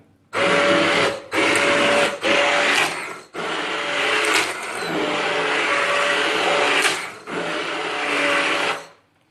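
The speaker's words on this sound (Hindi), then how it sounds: "आप देख सकते हैं मैंने इसके अंदर बीटर चला लिया है" A hand beater whirs through a pot of Kashmiri hareesa in loud, close bursts. It runs several times with short pauses between, then holds a longer steady run before cutting off, with no talking.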